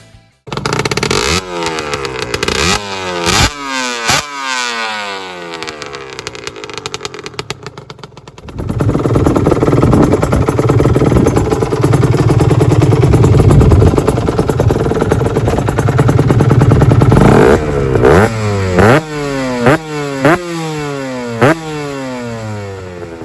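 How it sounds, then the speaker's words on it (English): An Aprilia RS 125 two-stroke motorcycle with a newly packed exhaust silencer, revved hard in sharp repeated blips, then held at a loud buzzing high rev before more quick rev bursts, close and alone. "recording of the before and after sound of the bike."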